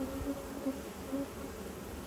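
A low, steady buzz of many honey bees humming close by on hive frames of new wax foundation, continuous with slight wavering, no voices.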